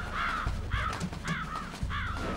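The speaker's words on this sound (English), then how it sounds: "The raven on my head. It thirsts for his blood." Four loud, harsh raven caws in steady succession, close and alone, from the video game Metal Gear Solid.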